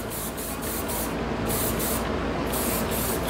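Gaahleri Ghad 68 airbrush spraying Fiebings Pro leather dye onto leather patches, a close hissing spray broken into short bursts with brief pauses between them.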